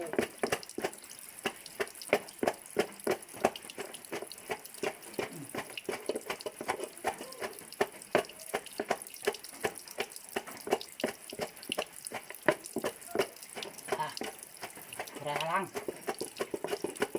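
Water splashes and trickles continuously with rapid, irregular dripping and spattering, fairly quiet, while a person talks intermittently.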